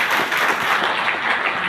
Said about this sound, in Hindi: मैं चाहता हूँ एक बार खुद के लिए एक बार जोरदार तालियां बजा दो आपको